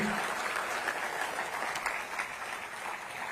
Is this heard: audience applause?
yes